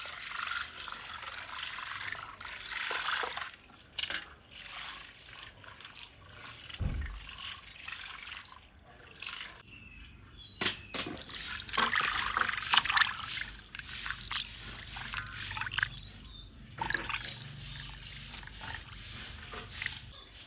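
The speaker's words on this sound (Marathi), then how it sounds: "तर कोलंबी आता धुवून झाली आहे." Tap water running while small prawns are washed by hand in a kitchen, a continuous close splashing and trickling with shifting bursts of handling noise.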